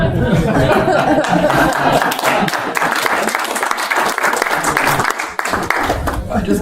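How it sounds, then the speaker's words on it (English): Audience applause fills a hall at a lecture on the Second Temple period, dense clapping held steadily for several seconds with scattered chuckles and murmurs mixed in. "All those applause are for him, not for me, okay?"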